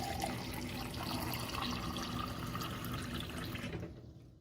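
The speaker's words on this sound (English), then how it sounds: "All that's left to do now is treat yourself to a glass of clean water." Water streaming steadily from an under-sink reverse osmosis filter faucet into a glass, a continuous close pour that stops abruptly near the end.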